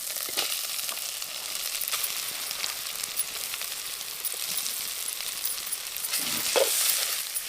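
Ginger, garlic, green chili and mashed potato frying in a pan for aloo mirchi bajji filling give a steady, close sizzle throughout, with a few soft stirring clinks and a brief swell near the end.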